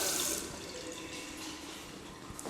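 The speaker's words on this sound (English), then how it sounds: "running water." Tap water runs steadily into a sink in a school's girls' washroom, a continuous close splashing stream that starts loudest and settles to an even rush.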